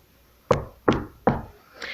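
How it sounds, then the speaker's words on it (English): Knocking on a door, with three sharp, loud knocks spaced evenly, then a fainter fourth tap, each one a distinct hollow strike. "She flew down to the house of the first frog and knocked on the door."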